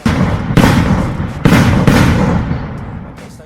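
Fireworks fired as a test launch at a small fireworks festival in Japan: four sharp booming bursts, each followed by a long rumbling decay, loud and spaced about a second apart, with no talking.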